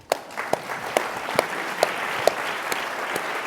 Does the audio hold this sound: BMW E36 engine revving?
no